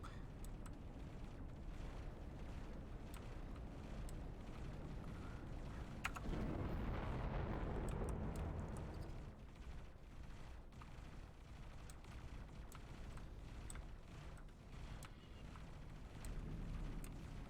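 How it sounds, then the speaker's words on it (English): Pulse turrets firing at fighters during a space battle in X4: Foundations, heard as a continuous rumbling barrage of muffled booms and explosions that swells in the middle and stays dense throughout, with no talking. "I love watching all the turrets kind of do their thing."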